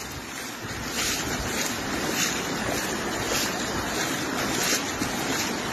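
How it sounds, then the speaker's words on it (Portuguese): Water rushing over a reservoir spillway beside a bridge in Rio Grande do Norte: a loud, continuous broadband roar with gusting wind noise, steady throughout, no talking. "essa bela sangria do nosso açude"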